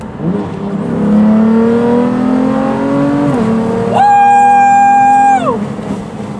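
A BMW M3 sports car engine revs up close and loud, its pitch climbing steadily, then a higher sustained rev that holds before dropping off, with pops and bangs.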